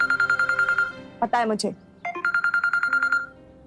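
A phone rings with a repeating electronic ringtone, a steady run of short beeping pulses that stops while someone speaks briefly, then starts again loud and close.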